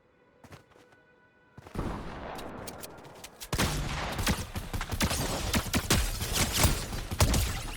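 Gunfire in Fortnite: scattered single shots at first, then heavier, continuous volleys of loud cracks and bursts building up, with a few distant pops mixed in.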